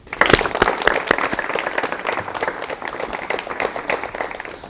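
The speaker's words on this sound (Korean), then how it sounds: "박수로 맞이해 주십시오." A studio audience at a 1985 Korean television broadcast applauds to welcome a guest, starting with loud, close claps and settling into a steady, lively round of clapping that continues throughout.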